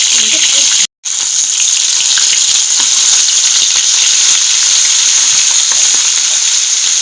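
Fish pieces frying in hot white oil, a loud dense continuous sizzle close up, broken only by a brief gap near the start, with no speech.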